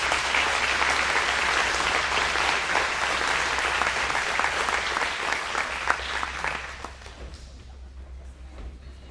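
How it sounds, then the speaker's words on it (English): Audience applause at a Century Farm recognition event, steady clapping that thins out and fades near the end, heard over a low background hum. "let's give a round of applause to our Century Farm family"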